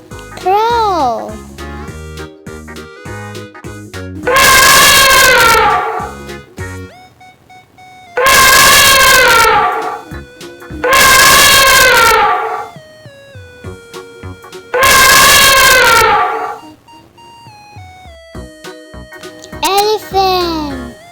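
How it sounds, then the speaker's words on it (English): An elephant trumpets in four loud, blaring, drawn-out calls spaced a few seconds apart over soft background music, with someone speaking briefly at the start and end. "Elephant."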